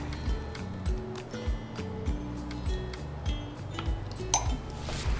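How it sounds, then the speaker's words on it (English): Utensil stirring mug cake batter of milk and vanilla in a mug, a steady run of light clinks and scrapes against the mug walls, close and moderately loud with no talk. "Okay, mix that around, get it nice and smooth."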